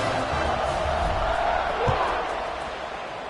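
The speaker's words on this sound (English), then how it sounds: "this crowd is buzzing after that last score" A college football stadium crowd at a Utah State at UNLV game buzzes with a steady, dense roar after a touchdown run, with one dull thump near the middle before the noise eases slightly.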